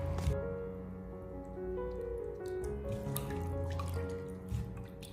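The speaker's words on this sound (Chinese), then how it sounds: "把鸡翅根搓洗干净以后，接下来把它控水捞出来" Washed chicken drumsticks are lifted out to drain, water dripping and splashing in a few close, scattered drips over a low kitchen hum, with no one speaking.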